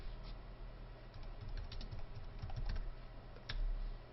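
Rapid clicking of keys on a computer keyboard as a search is typed, a steady patter of close, crisp taps with a few louder strokes near the end.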